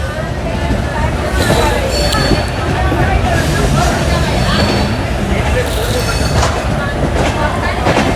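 Shramjeevi Express passenger train running on rails on the Patna to Rajgir route, a loud continuous rumble with rattling wagons and clattering wheels throughout, heard from on board.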